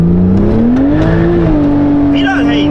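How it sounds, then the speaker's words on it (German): Porsche 911 Turbo S accelerating hard in second gear with its wheels spinning, the engine note climbing steadily and loud, with a person talking over it. "Wieder, hey, zweiter Gang, drehen die Räder einfach durch, das gibt's doch nicht"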